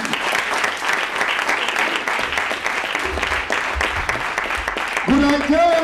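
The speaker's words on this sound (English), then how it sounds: "give him a big round of applause" Applause from a concert audience for a reggae performer, steady dense clapping filling the room for several seconds, with a voice and a tonal sound rising at the end.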